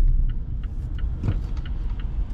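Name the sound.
traffic on a wet street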